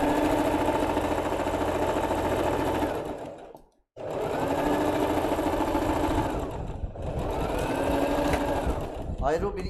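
A sewing machine stitches the hem of a long halter-collar dress in a steady, loud mechanical whir. It pauses briefly before running again, with a voice speaking over it.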